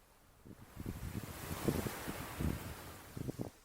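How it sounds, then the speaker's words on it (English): Wind picks up on a winter beach at Sovereign Park, Eastbourne, around sunset, gusting in soft low rumbles against the microphone over a faint steady wash, with no talking. "as the sun starts to set, the wind is picking up a bit."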